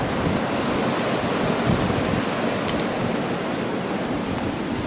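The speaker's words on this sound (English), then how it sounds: "Hear the wind?" Strong blizzard wind roars outdoors in 2013, a loud, unbroken rushing blast buffeting the microphone with no letup and no voices.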